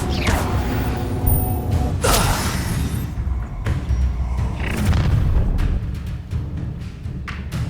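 Fire spell cast in the Hogwarts Legacy game, a loud booming whoosh with creaking, rumbling impacts and crackle, layered with other combat effects and no speech.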